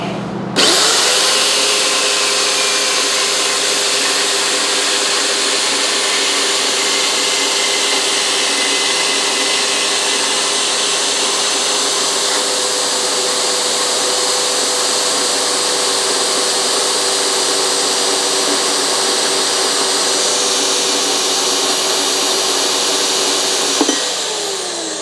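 A Vevor saw slices through metal for a floating stair build, giving a loud, continuous high-pitched shriek and whine that starts abruptly, holds steady for about 23 seconds, then cuts off near the end.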